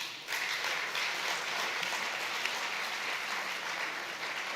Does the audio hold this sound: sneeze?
no